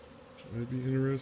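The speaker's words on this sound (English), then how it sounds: "Just a bunch of new baby bees all out taking orientation?" Honeybees on orientation flights buzz through the air near a hive, a close droning hum that swells in over a moment as a bee passes, with a faint background of other wings.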